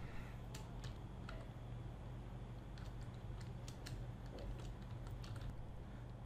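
Quick keystrokes on a computer keyboard while entering text in Adobe Illustrator, light irregular clicks in short bursts over a faint steady hum.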